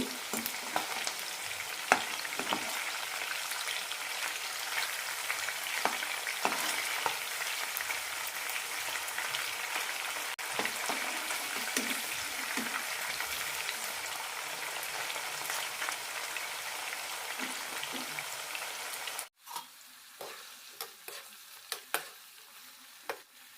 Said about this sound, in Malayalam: ചിക്കൻ പീസിൻ്റെ കളറൊന്നും മാറണ്ട നന്നായി വെന്ത് കിട്ടിയാൽ മതി മീഡിയം ഫ്ലെയിമിലിട്ട് വറുത്താൽ മതി